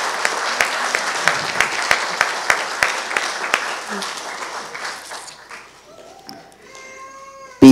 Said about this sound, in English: Let's please give another round of applause to our class 2018 of the Medical Laboratory Technology Program